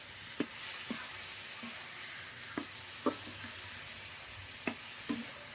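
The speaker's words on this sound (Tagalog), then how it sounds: "Prito-pritoin na natin sa mga idol." A steady sizzle of snails frying in a pan, with occasional soft taps and pops of stirring over the constant hiss.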